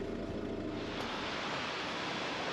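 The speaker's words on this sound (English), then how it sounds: "that lovely little river going by" A small river in the Vosges Mountains rushes steadily and continuously, a broad, even wash of flowing water with no voices.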